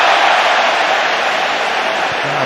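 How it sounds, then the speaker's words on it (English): Football stadium crowd roaring and applauding in a dense, steady wash of noise that holds at constant loudness throughout, with no distinct voices standing out. "Crowd applauding the drop of the shoulder"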